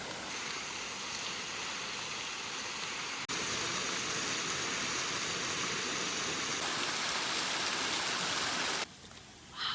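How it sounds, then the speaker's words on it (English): Steady rain falls through a northern Ontario forest, a dense, continuous hiss of drops on leaves and moss heard close and loud, briefly dipping near the end before resuming. "The trees are some cover, but it's still rain."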